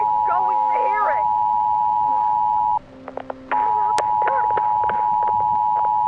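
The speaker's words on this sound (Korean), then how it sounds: "지금 전화기 소리 들리잖아, 소리. 전화기에서 소리." A telephone rings in The Lancaster Leak, a call-center horror game, as a steady electronic tone that cuts out briefly midway and then resumes, with voices talking over it.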